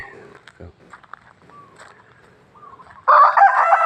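A rooster crows loudly and close at the end, after a stretch of quieter scattered sounds and faint bird calls, at a temple in Lampang, Thailand.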